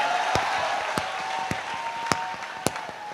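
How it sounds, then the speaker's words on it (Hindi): Audience applause at a Hindi comic poetry gathering (hasya kavi sammelan), a steady wash of clapping with a few sharper claps standing out across the stretch. "ताली बजाइए, एनर्जी मिलती है।"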